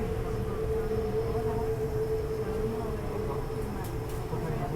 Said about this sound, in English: Another train on the outside.